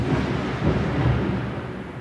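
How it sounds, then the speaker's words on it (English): Thunder from a lightning storm in the game Ark rolls as a low, deep rumble with two swelling peaks, fairly loud and steady with no voices. "But then I started hearing lightning outside."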